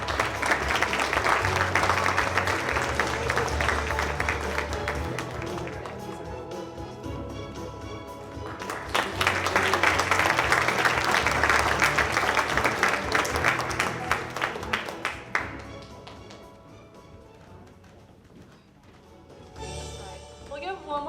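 Applause from an audience at an art awards evening, a broad crowd clapping that swells twice, with background music and a voice mixed in before fading near the end.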